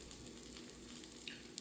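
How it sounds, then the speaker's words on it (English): Chicken and cheese quesadilla frying in a pan, giving a faint, steady low sizzle that runs on without pause and without any voices. "So long as it keeps sizzling, so long as it's a low sizzle, we know that it's fine."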